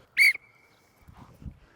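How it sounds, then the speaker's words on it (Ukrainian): A single sharp whistle blast starts a bottle-drinking contest on a football field, followed by a faint lingering tone and soft, indistinct sounds of people nearby. "По свистку. Раз, два, три."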